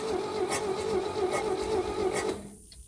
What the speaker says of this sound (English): I just want to see how she cranks